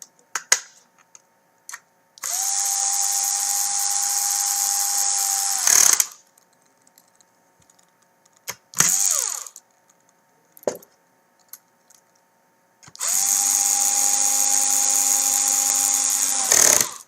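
A power drill driving the three stacker motor screws back into a TAO/LX7 base. It gives three loud, close, whining bursts: a long run of about four seconds, a brief blip, then another long run, with faint clicks of handling between them.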